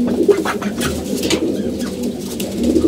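Domestic pigeons kept for pairing and breeding coo repeatedly in low, throaty rolling calls, close by and fairly loud with no talking.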